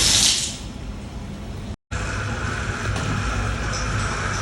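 Water poured into a water tank being washed out with a cooler motor, a steady broadband wash of rushing, splashing water that runs continuously and loudly, broken only by a brief cut near the middle.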